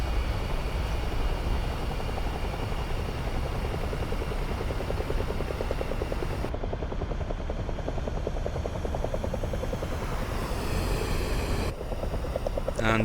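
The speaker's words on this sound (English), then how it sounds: "he's next to take off from the runway in the console and PC gaming air show" Jet aircraft in the DCS flight simulator game taking off from a runway during a console and PC gaming air show, a steady loud engine roar that rises in pitch and intensity partway through as it accelerates, no talking.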